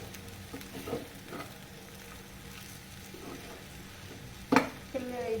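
A spoon scrapes and stirs pumpkin halwa cooking in ghee in a pan, soft sizzling running steadily underneath, with a couple of sharper metallic clinks near the end.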